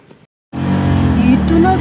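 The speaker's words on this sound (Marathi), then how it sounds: "ती बघ रिक्षा आली बघ" An auto rickshaw pulls up close after a brief quiet moment, its small engine suddenly loud and droning steadily with a buzzing tone, voices faint in the background.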